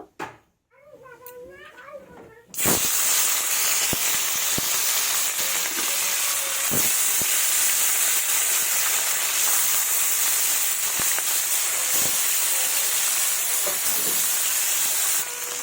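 Fish dropped into hot mustard oil in a wok, a sudden loud hiss that settles into a strong, steady sizzle with occasional pops; a voice speaks briefly just before the fish goes in.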